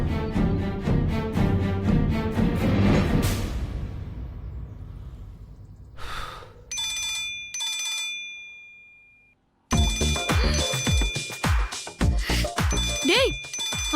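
Telephone ringing with a repeating electronic tone in short bursts, sounding over a loud musical soundtrack that cuts out and returns, in a Tamil TV drama scene at home.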